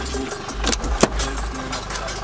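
A car engine rumbles low and steady while driving, with a few clicks and rattles inside the cabin and someone talking over it.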